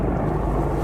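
Rescue helicopter hovering overhead at night, heard as a steady low rotor and engine rumble that is continuous and fairly loud, with no talk.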